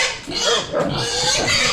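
A pig at a lechon roasting yard grunts and squeals loudly and up close in a run of rough, overlapping calls with a brief dip between bursts.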